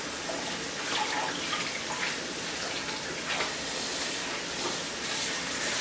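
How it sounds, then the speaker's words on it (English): A faucet runs steadily while a hand-washed shirt is rinsed beneath it, a continuous hissing splash of water with faint shifting spatters, moderately quiet and unbroken, no talking. "And you run it underneath the faucet."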